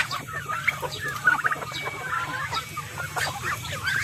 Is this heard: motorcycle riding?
no